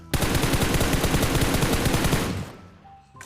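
A long, rapid automatic spray of gunfire in the mobile shooter PUBG Mobile, with loud, evenly spaced shots that run for about two seconds before cutting off and leaving only faint game sounds.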